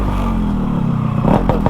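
A stage-2 ported Yamaha RX135 two-stroke motorcycle revs loud and close, its steady buzzing drone broken near the end by a few sharp throttle blips.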